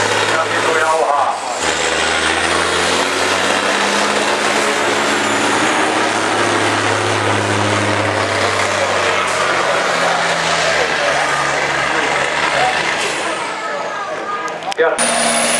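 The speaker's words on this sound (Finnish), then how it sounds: "Ja siitä lähtee Suvannon Jussi ja Sisu jauhaa." A Sisu-engined pulling tractor at a power pulling event roars at high revs, a loud continuous engine drone that holds for most of the stretch before cutting off near the end, with a commentator talking over it.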